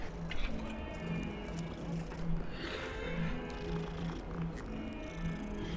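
A cat purring while being petted in Hogwarts Legacy, a soft steady rhythmic purr pulsing evenly throughout at low volume, with faint background ambience.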